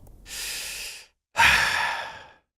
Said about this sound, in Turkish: Derin bir nefes al.